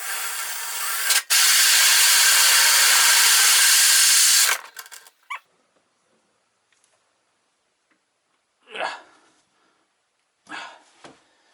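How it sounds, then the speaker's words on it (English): A power drill whirs loudly for about four seconds, then stops, followed by quieter scraping and brushing sounds nearby. "so we're going to drill that hole."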